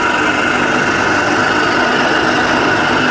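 TFY milling machine spindle running steadily at 1,000 RPM, a constant mechanical drone and whine that stays level and close throughout, with no talk.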